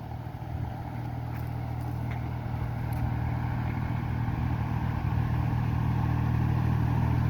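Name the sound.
tractor driving through a castor field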